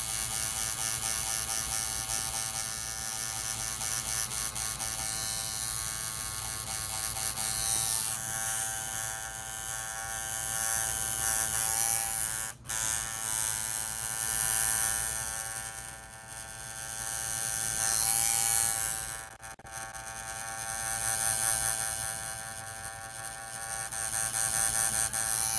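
A tattoo machine buzzes steadily close by, a sustained electric drone with a rich harmonic whine that swells and eases, briefly cutting out twice.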